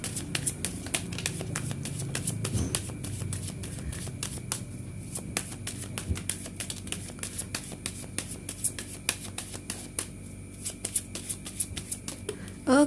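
Tarot cards being shuffled during a reading: a dense run of quick riffling clicks and soft flutters, close and steady for the whole stretch, with faint talk underneath and a sharper clatter at the end.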